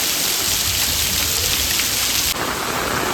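Heavy rain pours steadily on a village, a dense, loud, unbroken hiss of drops striking surfaces with no voices over it.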